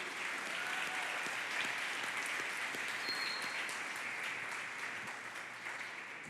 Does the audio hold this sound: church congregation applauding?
yes